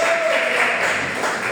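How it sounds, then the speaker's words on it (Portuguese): A church congregation applauds during a worship service, a dense, continuous wash of clapping from a large group at steady volume, with a voice faintly mixed in. "dê a mais linda salva de palmas que você puder fazer para Deus"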